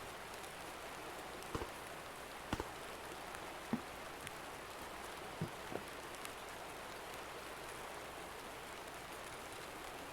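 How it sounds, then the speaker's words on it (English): Steady in-game rain in Escape From Tarkov, a soft even hiss of drops on surfaces with a few sharper isolated drips or taps scattered across, no voices. "Starting to rain in game"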